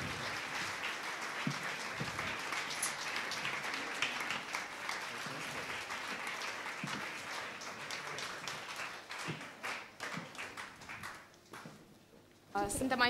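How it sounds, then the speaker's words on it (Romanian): A crowd applauds steadily, dense clapping filling the space, thinning into scattered individual claps near the end with a few voices mixed in. "Aplauze"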